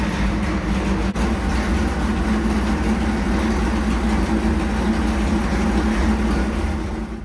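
Carbureted race engine running on E85 fuel on a dyno, holding a steady, loud rumbling drone at a constant speed close by for the whole stretch, with one brief sharp click early on.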